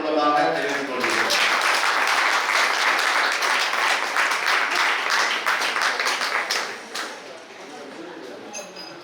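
A congregation applauds at a church festival mass for Saint Sebastian in a Tamil Nadu village, a large crowd's loud sustained clapping that tapers off near the end, with a voice over a loudspeaker at the start.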